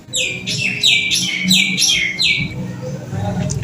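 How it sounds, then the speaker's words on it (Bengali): Birds chirp outside in quick bright bursts, a run of repeated tweets over about three seconds above a low indoor background hum. "পাখিগুলো বাইরে কিচিরমিচির করছে।"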